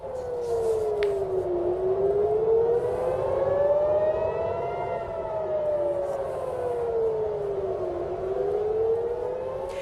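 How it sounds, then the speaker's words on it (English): Air raid sirens across Tel Aviv during an Iranian ballistic missile barrage wail, rising and falling in long slow sweeps, loud and continuous over a low rumbling background. "set off explosions as well as air raid sirens across the city"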